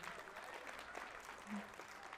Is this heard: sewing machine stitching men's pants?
no